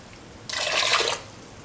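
Coconut milk poured into a cooking pot for an okra and carrot stew, a brief liquid splash and gush lasting under a second, close and clear with no speech.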